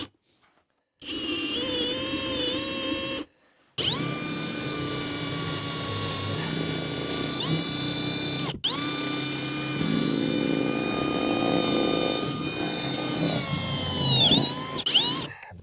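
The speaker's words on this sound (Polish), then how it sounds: "Próbujemy najpierw od góry po prostu wkręcać się w tą deskę." A power screwdriver drives screws into a wooden board inside a bus-based camper, its motor whining in loud, sustained bursts that rise and fall in pitch, separated by short pauses, close up.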